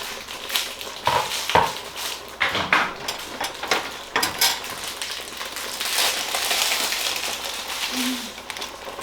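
Dinengdeng being flipped and stirred in a cooking pan, with scraping utensil strokes and clattering knocks in an irregular rhythm, followed by a steadier sizzle of the food cooking.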